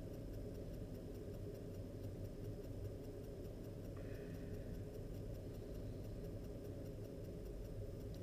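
A Skoda Fabia Combi 1.2 CRI diesel engine driving in third gear at about 1100 RPM, a steady low droning rumble with fine ticking, heard continuously from inside the car.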